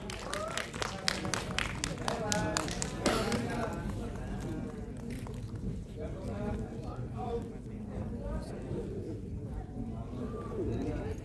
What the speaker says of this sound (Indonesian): boleh kita berikan tepuk tangan sekali lagi untuk Naila Purnama, Gizelma Firmansyah, Tante Lydia Kandau, Fahad Haidra, dan Yusuf Mahardika